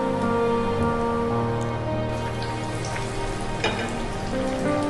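A stuffed bread pocket shawarma fries in hot oil with a steady, dense crackle that holds from start to finish, fairly close and even in level, with a faint tonal background underneath.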